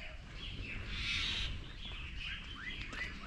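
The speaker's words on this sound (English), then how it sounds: "Wow, the birds keep singing." Birds sing in a village in Hong Kong: a run of bright, repeated chirps and short rising calls near the end, set over a steady outdoor hiss with no talking.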